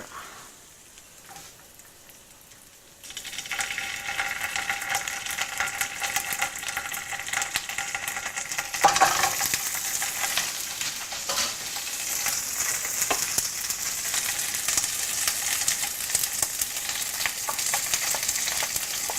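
Ginger hits a hot pan with a curry leaf sprig for chicken pilaf. After a quiet opening a loud close sizzle erupts and holds steady, flaring once more midway.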